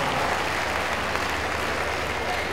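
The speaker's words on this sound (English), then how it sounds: "Can you clap for your dad?" Large crowd at a live comedy and music show in Abuja clapping and cheering together, a dense, continuous roar of applause, loud and sustained, with voices buried inside.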